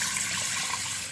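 Water pours onto rice in a pressure cooker as a steady, bright splashing stream that runs evenly and close up for the whole moment, with no talk.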